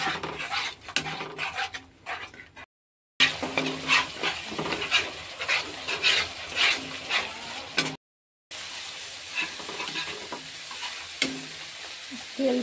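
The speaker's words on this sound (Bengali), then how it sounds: "এবার ভালো করে নেড়ে নেব।" Spice paste fries in oil with fried onions for hilsa fish biryani while being stirred, with a close, steady sizzle and repeated scraping strokes, broken by two short silent gaps.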